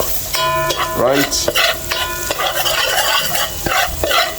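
Curry chicken being stirred as it fries in a pot, with scraping and sloshing over a steady sizzle; a voice speaks one short word near the start.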